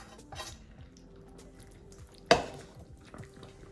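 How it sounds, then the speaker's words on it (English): Soft scraping and shuffling as a vegetable and chickpea mix for an aubergine tomato bake is scraped from a pan into a baking dish, with one sharp, close utensil clink midway. "I'm just going to put the whole mix in"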